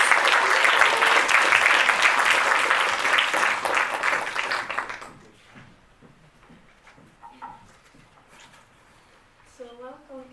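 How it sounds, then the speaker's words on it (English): A warm round of audience applause at an event marking five years of Shelter City Utrecht, welcoming a human rights defender. The clapping is dense for about five seconds and then fades, leaving quiet room sounds and a few voices. "So, a warm applause for Caroline Rucah."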